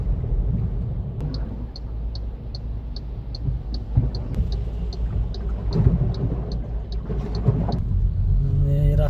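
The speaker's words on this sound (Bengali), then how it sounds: "এইদিকে দেখেন গাড়ি পার হওয়ার মতো সুবিধা নাই, এইভাবে গাড়ি পার হইতেছে।" Cars push through a flooded road in heavy rain, a steady low rumble of engines and churning water under falling rain, with a faint high beep repeating at regular intervals.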